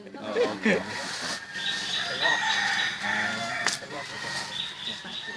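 A rooster crows a few times at moderate distance, with people talking over it and some outdoor background noise.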